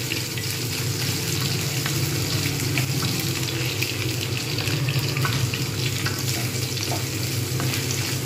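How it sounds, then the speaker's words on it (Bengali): Potatoes fry in a covered pan: a steady, even sizzle that holds at a moderate level throughout, with no talking. "আলুগুলোকে আমি কিন্তু খুব সুন্দরভাবে ভেজে নিচ্ছি।"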